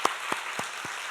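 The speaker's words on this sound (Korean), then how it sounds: "다시 한번 박수하겠습니다" Evenly spaced hand claps, about four per second, ring out over a soft background of crowd applause at an early-morning church prayer service.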